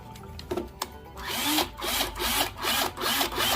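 A handheld power drill whirring in a home workshop during a fishing kayak build, quiet at first, then running in several close pulsing bursts that rise and fall.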